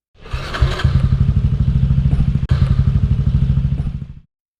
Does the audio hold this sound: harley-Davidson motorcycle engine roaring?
yes